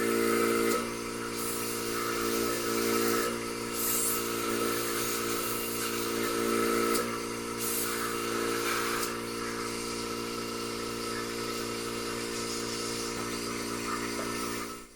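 Vacuum pump drawing air through a silver investment casting flask with vents, a steady loud mechanical hum with a pulsing motor drone running throughout without talk.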